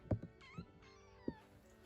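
Kittens meow indoors in a spare bedroom, several short cries with rising and falling pitch spaced across the moment, fairly faint and close, with small bumps between them.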